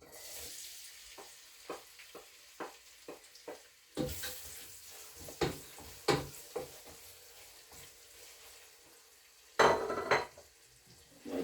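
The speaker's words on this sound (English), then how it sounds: "So we'll go ahead and fry some onion." Onion frying in warm oil in a pot, with a soft sizzle running under a series of sharp clinks and scrapes of a utensil against the pot, and a louder clatter near the end.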